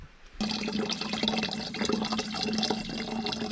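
Water pours steadily inside a camping shower tent, a continuous splashing spray that starts abruptly after a short quiet moment and runs on close by without talk.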